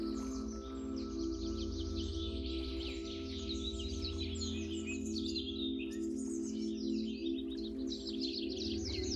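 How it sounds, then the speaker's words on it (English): Birds chirp and trill in quick overlapping phrases beside Lake Moraine, fairly faint over a steady low hum and tonal drone that run throughout. "you catch the melodies of birds, their rhythms, sound waves"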